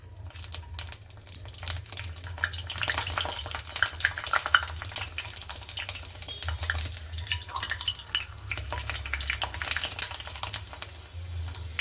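Rava papad frying in hot oil in a kadai, a continuous crackling, bubbling sizzle with dense fine pops, fairly close and steady for the whole stretch, no voices.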